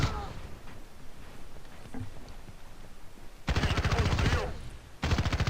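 Rapid assault rifle fire in Battlefield Play4free, with quieter game ambience and faint shots at first, then two loud, fast full-auto bursts up close, separated by a short break.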